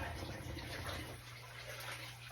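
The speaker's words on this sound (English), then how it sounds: "This is me dumping the water out of the tote because there's so much water in it." Water is poured out of an overfilled, sagging plastic tote in a steady, close, rushing splash that holds for the whole stretch and eases slightly toward the end.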